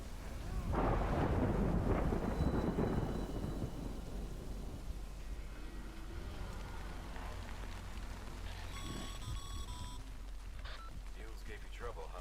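Timefall rain and rumbling thunder in the video game Death Stranding: a heavy roll of thunder at the start over steady hissing rain, continuing with softer rain and a brief tonal chime later on.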